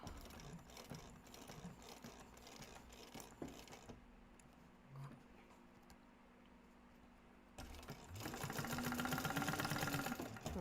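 A sewing machine runs in bursts stitching a crossbody bag seam, a close mechanical whirring hum that pauses mid-clip and returns louder and steadier near the end.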